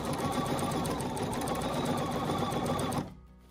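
A sewing machine stitching free-motion quilting hums loud and steady at close range, then stops abruptly about half a second before the end.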